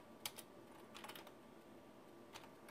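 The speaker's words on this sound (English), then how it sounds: "So if I type in password" Keys tapped on a door lock keypad to enter a code, a few quick light clicks in scattered bursts, close and quiet with no talking.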